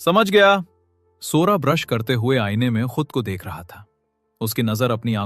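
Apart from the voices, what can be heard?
No everyday noise stands out behind the speech.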